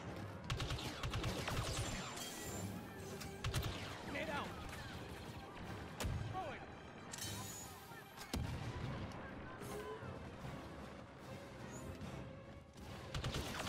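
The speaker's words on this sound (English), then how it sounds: "I'm getting shot from nowhere" Heavy gunfire and explosive booms from a Star Wars Battlefront II battle, with bursts and crashes running dense and loud through the whole stretch, partly under a voice talking.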